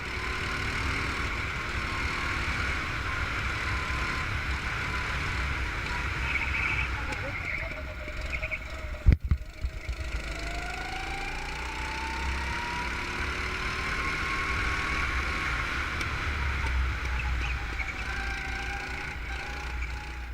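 Fast racing kart engine droning steadily on the large Pittsburgh International Race Complex circuit, a continuous buzzing whine with pitch slowly rising and falling, plus a sharp knock near the middle and a voice speaking over it.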